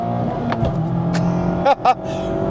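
A 2024 Mazda MX-5 facelift engine revving near 4,000 RPM, a close steady hum broken by a few brief bursts and clicks, with a voice briefly heard.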